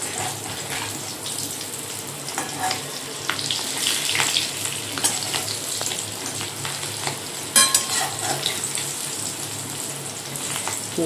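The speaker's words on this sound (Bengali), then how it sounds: "এদিকে বড়াটা বসিয়ে দিয়েছি কড়াইতে" Fish roe fritters frying in a kadai (wok). A steady close sizzle runs throughout, with scattered crackles and pops and a brief sharp clatter near the end.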